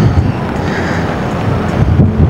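Strong wind buffets the microphone outdoors along a street of food shops, a loud, continuous rumbling roar with gusty swells and no voices.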